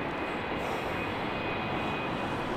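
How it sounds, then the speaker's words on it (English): Aircraft at London City Airport, a steady broadband jet engine roar filling the whole span, loud and continuous with no talk. "Now wasting no time in turning that aircraft around."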